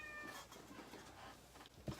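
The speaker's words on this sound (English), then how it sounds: "My cat is very vocal, so you'll hear him coming up from time to time" A vocal pet cat meows indoors, one short, faint call near the end over a quiet room background, with no talking.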